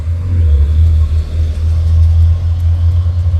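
A Hino Ranger truck engine labours uphill in heavy rain, a loud, steady, low droning rumble that holds throughout with no clear breaks.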